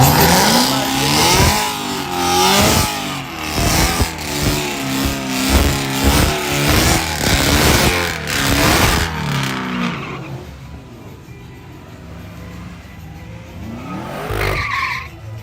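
A Cadillac CTS-V launches on a small-tire street drag strip, engine roaring loud and rising through gears while tires squeal and skid, then the car recedes into fainter engine noise before a brief later swell.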